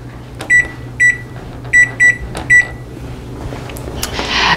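A microwave oven timer is set for four minutes: five short electronic beeps sound in an uneven series, close and clear over a faint hum. A soft rustle follows near the end.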